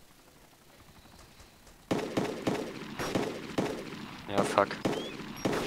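Gunfire rings out in the video game DayZ Epoch: a run of sharp shots at fairly regular intervals starts suddenly after a quiet moment. A player's voice briefly cuts in over the shots.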